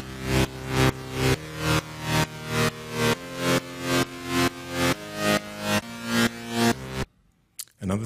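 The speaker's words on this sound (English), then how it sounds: "Another term that can be used to describe that sound is ducking or pumping" A thick sidechain-compressed synth bass chord pumps in a steady rhythm, swelling after each beat then ducking, about twelve times, before cutting to near silence.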